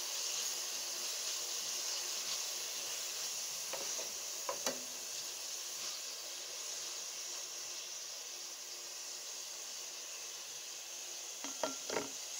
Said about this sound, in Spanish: Se fríe bien la cebolla y tomate.